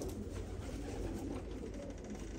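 Akbaş pigeons cooing softly in a continuous low, murmuring drone that stays quiet and steady throughout.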